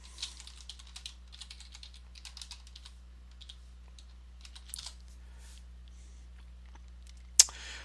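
Password being entered on a computer keyboard, light quick keystrokes in short bursts with pauses, fairly quiet over a low steady hum, ending with one sharp louder click.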